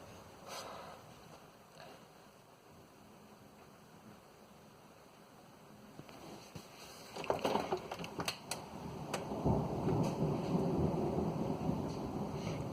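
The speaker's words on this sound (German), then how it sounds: "Das ist der Donner." Thunder from a nearby thunderstorm with close lightning strikes: faint rain at first, then a sharp crackling crash that builds into a long, loud rumbling roll over steady rain, no voices.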